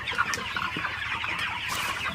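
Broiler chickens clucking on a farm at a morning sale, a dense, continuous flock chatter of clucks and short calls, moderately close and without speech.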